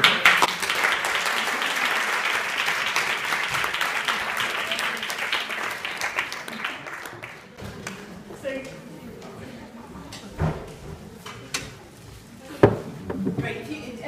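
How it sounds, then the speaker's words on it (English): Audience applause at a Living Wage petition event, a dense crowd clapping loudly for about seven seconds before thinning into scattered claps and faint talk. "Let's all give them a round of applause."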